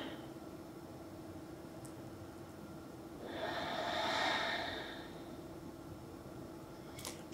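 One slow, deep breath, drawn and released through the nose, rises softly out of a quiet room hush midway through and fades back down; no talking.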